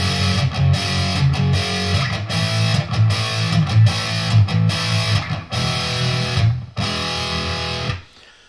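Distorted electric guitar plays a lead fill from a song, loud choppy chords with short gaps and bends before cutting off near the end.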